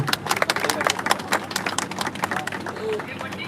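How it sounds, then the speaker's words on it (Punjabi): Dense clapping from a large crowd at a live Punjabi stage gathering, a steady patter of many hands close by with a murmur of voices mixed in throughout. "ਇੱਕ ਵਾਰੀ ਜ਼ੋਰਦਾਰ ਤਾੜੀ ਲਾ ਦਿਓ"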